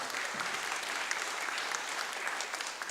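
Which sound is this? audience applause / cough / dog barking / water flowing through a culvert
audience applause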